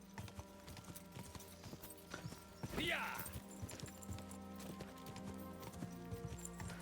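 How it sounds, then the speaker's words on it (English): A horse trots under its rider in the medieval video game Kingdom Come: Deliverance 2, hooves clip-clopping in a steady rhythm beneath a quiet game score, with a brief neigh-like burst partway through. "It's as soon as I start riding, much better. And faster."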